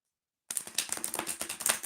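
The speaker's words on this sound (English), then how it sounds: "Let me just shuffle a little bit." Tarot cards are shuffled close by in a quick run of crisp flicking riffles that starts abruptly and continues steadily to the end.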